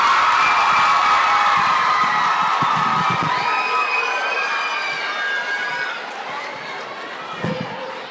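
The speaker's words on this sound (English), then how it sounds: "Give her a round of applause." A school assembly crowd of children cheering and shouting for a talent act, a loud sustained roar with whoops that slowly fades over several seconds.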